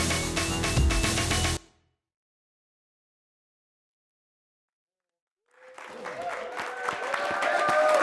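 Applause at the EGX gaming event, with dense clapping that cuts off abruptly into silence and then returns, building steadily in loudness.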